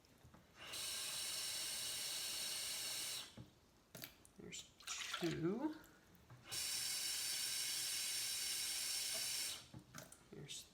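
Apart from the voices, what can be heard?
water poured from a cup into a blue bowl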